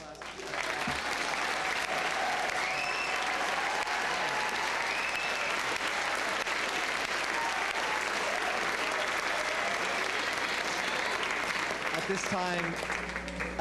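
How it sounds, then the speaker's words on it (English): A large audience at a 2005 high school graduation ceremony gives long, steady, dense applause that holds evenly for the whole stretch, with no single clapper standing out. "Can we have one more round of applause for this great class?"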